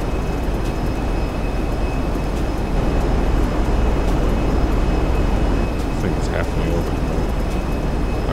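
Steady broadband roar of a large airplane's engines in GTA 5, constant and close with no clear breaks, running on the ground before takeoff.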